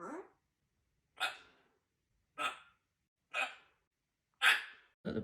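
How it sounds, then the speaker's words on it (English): A young African grey parrot hiccups five times in an even series about a second apart. Each hiccup is a short, sharp gasp, close and clear against silence. "Look at the hiccups, you poor little boy."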